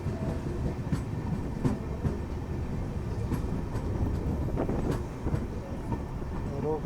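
Intercity express train passing at speed, a continuous dense rumble and rattle of carriages with rhythmic wheel clicks, loud and close, with a voice briefly heard.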